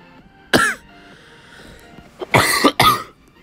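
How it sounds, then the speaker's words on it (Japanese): Two or three sharp, loud coughs from a person during a Clash Royale gaming session, one isolated burst followed shortly by a close pair, with quiet background between. "あー、咳が。"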